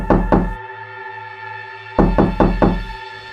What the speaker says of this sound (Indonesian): kembali terdengar suara ketukan. Tapi kini bukan dari arah pintu, melainkan jendela yang ada di hadapan kita berenam